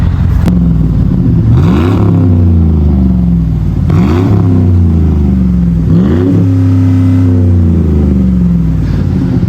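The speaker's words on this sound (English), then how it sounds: "Loving that Flowmaster sound." A 2008 Chevy Avalanche with a Flowmaster Flow FX exhaust revs loudly three times in even succession, each blip rising then falling back to a deep, steady idle rumble, close and unaccompanied.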